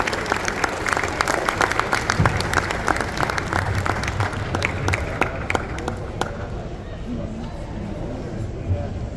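Sustained audience applause at a Spanish-language book presentation honoring a teacher, dense crowd clapping with sharp individual claps standing out, some crowd murmur mixed in, tapering slightly toward the end.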